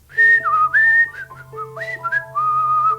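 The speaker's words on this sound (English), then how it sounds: "was whistling as he slid rice cereal onto the shelves" A man whistles a bright, wavering tune in short sliding phrases while sliding boxes of rice cereal onto store shelves, close and clear over a low steady hum.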